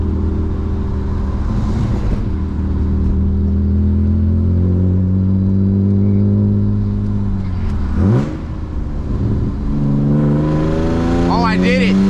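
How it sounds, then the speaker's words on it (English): A manual BMW E36 328i with a loud exhaust drones steadily, then its engine note dips and sharply flares as a blip rev-matches the downshift. The pitch then settles back into a rising, throaty pull close by. "I'm gonna try to rev match downshift."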